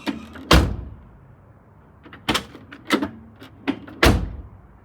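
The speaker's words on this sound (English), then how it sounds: "we should be able to slam this door now and open it with this handle" Door of a Mercedes R107 car slammed shut several times, each a loud, close, solid thunk, with lighter latch clicks and handle rattles between the slams.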